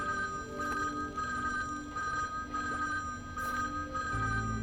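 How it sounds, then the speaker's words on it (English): A telephone rings in the video game Mercury Abbey, a fairly quiet, repeated electronic ring pulsing in a steady rhythm over faint background ambience. "Suddenly, an annoying phone ringing."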